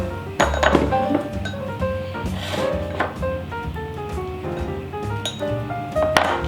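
A jar of honey and apple cider vinegar salad dressing being shaken, with glassy clinks and rattling knocks in an uneven rhythm, close and fairly loud.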